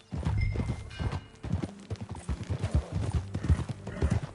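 Horse hooves clip-clop in a video game in an irregular walking rhythm of close, soft thuds, with a faint whinny and some low background sound.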